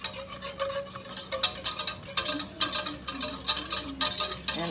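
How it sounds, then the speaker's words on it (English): A whisk scraping and clicking rhythmically through tomato soup as milk is stirred in, close-up, uneven repeated strokes against the pot with no talking. "Whisk it up some more."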